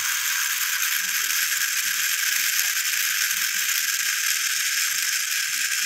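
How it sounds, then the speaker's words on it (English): A 12-40V 10A DC motor spinning a wheel, its speed adjusted by a potentiometer knob on the controller, gives a steady, dense high-pitched whir with fine ratcheting rattle, continuous and close, with no voices. "rotate the knob. You will see the speed variation on wheel."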